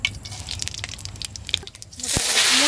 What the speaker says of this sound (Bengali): পাঁচফোড়ন দিয়ে দিলাম